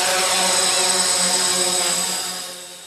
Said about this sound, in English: The helicopter rapidly rises to a height of 30 meters.